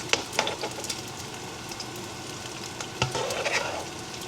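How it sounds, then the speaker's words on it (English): Meat frying in a pan at home for dim sum steamed rice, giving a soft, steady sizzle with light stirring clatter and a few sharp clicks, moderately faint and without voices. "We're gonna let it fry for about 8 to 10 minutes."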